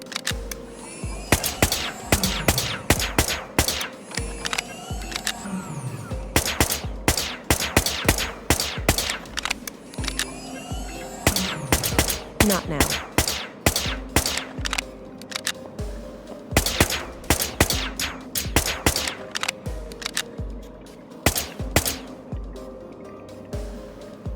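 Gunfire from the investigation game Whispers of a Machine: dense rapid bursts of loud shots repeat throughout, with brief pauses between volleys and a steady mechanical hum beneath.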